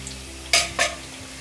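Potatoes cooking in a lidded pan over low to medium flame, two short bursts of sizzling as they are stirred, over a faint background hum.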